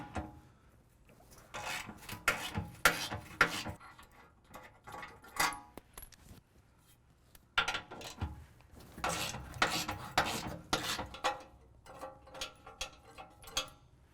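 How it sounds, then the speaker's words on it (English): Skid plate bolts on a 2017 Ford Raptor are loosened with a 13mm socket, giving bursts of metallic clicking and rattling ratchet-like sounds in two close, busy clusters separated by a short quiet pause, with no speech. "We're going to go ahead and use our 13mm socket and remove those."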